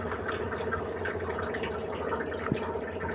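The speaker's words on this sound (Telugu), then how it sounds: "ఇందులోకి చింతపండు రసాన్ని అయితే వేస్తున్నాను" Tamarind juice is poured into a spiced goat-head curry with chilli powder, coriander powder and ginger-garlic paste. It gives a soft, steady liquid trickle over a busy kitchen background, with one brief sharp tap near the end.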